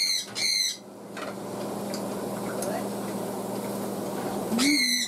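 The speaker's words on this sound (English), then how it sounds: "Parrot in the background says it's good." A parrot squawks in short bursts, one harsh cry at the start and another near the end, over a quiet room hum in a home kitchen where sauerkraut is being made.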